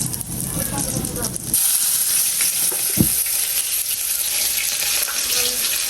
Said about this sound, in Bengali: এদিকে আমি কড়াই তেল দিচ্ছি, দিলাম জিরা, দিলাম তেজপাতা, দেবো পেঁয়াজ